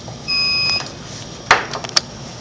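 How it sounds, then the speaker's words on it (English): An electronic voting machine at a Camp Hill polling place gives a single steady high-pitched beep lasting about half a second, followed by a few faint clicks and small handling sounds. "Our first machine has beeped at us"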